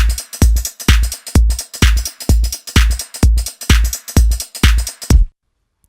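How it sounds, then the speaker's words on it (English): A drum loop thumps a steady four-on-the-floor kick on every beat, with bright cymbal hits over it, about ten even hits before it stops abruptly. "So this is an original 4x4 beat"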